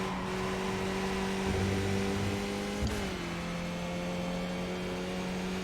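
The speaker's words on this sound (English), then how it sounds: "My blipping on downshifts is terrible." A Skip Barber race car in iRacing at Okayama holds a steady loud engine drone, then a sharp throttle blip on a downshift near the middle, followed by a lower settled tone.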